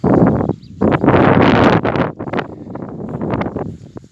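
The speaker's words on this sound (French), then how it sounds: "Alors il y a du vent, ça va grésiller." Gusts of wind buffet the microphone outdoors in a garden in heavy, uneven bursts, with rustling in between.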